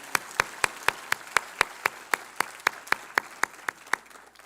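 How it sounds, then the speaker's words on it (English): Slow, evenly spaced claps at a graduation ceremony, about seventeen sharp hits at a regular rhythm with no voices, more like one or two people clapping than a full crowd. "one more applause, for both Sophia and for Andreina."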